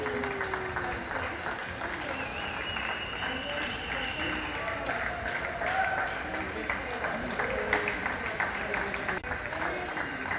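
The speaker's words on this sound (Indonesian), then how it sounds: "Hari ini ramai banget yang tepuk tangan." Neighbours applaud from their balconies during the Spain lockdown on May Day: scattered, distant clapping echoes between buildings for the whole stretch, with faint voices mixed in.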